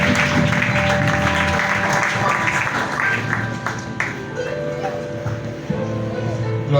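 A church congregation claps and acclaims during worship, a loud, continuous wash of applause mixed with singing voices and accompanying music.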